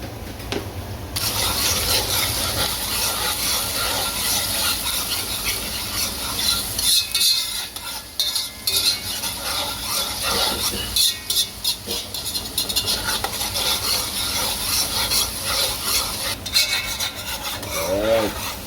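Minced garlic sizzles in a hot pan for Guyanese fried rice, with a loud, continuous frying hiss under constant rasping strokes of a utensil scraping and stirring, close up and with no talking.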